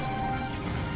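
Fireball spell landing in the mobile battle game Clash Royale, a dense, roaring burst of impact and crackle that fills the whole short moment at steady loudness.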